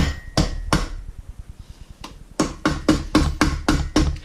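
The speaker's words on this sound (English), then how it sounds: "rubber hammer, see if it's going to move." A rubber mallet strikes an engine part during a Mazda RX-8 engine rebuild, knocking it down to seat it: two sharp taps, a pause, a single tap, then a quick run of about seven close, loud, evenly spaced blows.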